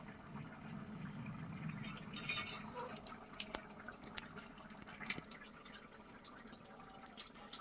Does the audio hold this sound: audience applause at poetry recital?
no